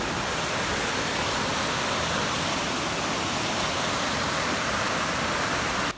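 Cachoeira Guaratuba, a waterfall on a forest mountain-bike trail on Brazil's north coast, roars as a steady, dense rush of falling water heard up close and unbroken.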